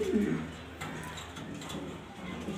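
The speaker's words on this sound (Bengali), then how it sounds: "এটা নর কবুতর।" A male Grizzle pigeon in a home breeding loft gives a low, close coo at the start, then quieter soft cooing sounds, with someone talking over it.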